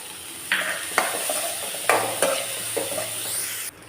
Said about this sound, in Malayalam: ഇനി ഇതെല്ലാം ചേർത്ത് നന്നായി ഒന്ന് വഴറ്റിയെടുക്കാം.